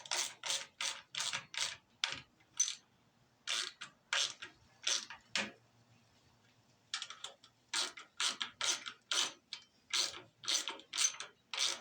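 Ratchet on a bolt of a 1968 garden tractor, close and crisp, clicking in quick rhythmic bursts of strokes with a short pause midway before the ratcheting resumes.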